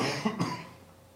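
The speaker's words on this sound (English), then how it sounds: "got a little cough going on here, too much talking" A single short cough, close and moderately loud, with a quick double burst and no talking.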